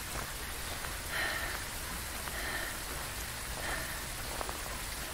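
Steady rainfall in the horror game Phasmophobia, a constant hissing patter of drops on surfaces with faint recurring higher tones over it and no voices.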